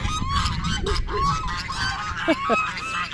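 Several geese honk loudly and repeatedly at close range, with overlapping calls and a couple of sharper honks near the end, amid steady outdoor background noise.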